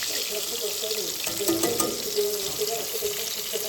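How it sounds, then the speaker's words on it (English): Venison backstrap, country-fried, shallow frying in oil on a Blackstone griddle, giving a steady, close hiss and crackle that runs the whole time at an even level, with no talk over it. "It is a shallow fry, but it's on my Blackstone."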